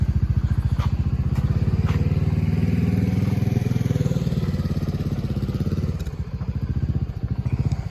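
Montesa 260 Cota trials motorcycle ridden by a beginner over a stump, a loud close single-cylinder putter with rapid even firing pulses, revving briefly and dipping near the end.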